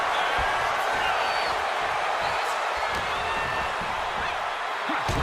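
Roaring arena crowd in the WWE 2K26 wrestling video game during a Hart match, a dense continuous cheer with scattered thuds and whoops, loud and sustained throughout.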